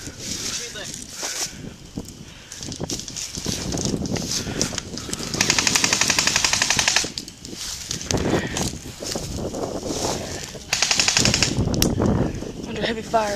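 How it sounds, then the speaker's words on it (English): Airsoft guns fire in heavy bursts during an outdoor squad deathmatch skirmish, with rapid rattling volleys coming and going among shouted voices. "Under heavy fire."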